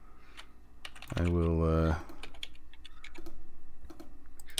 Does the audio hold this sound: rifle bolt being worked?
no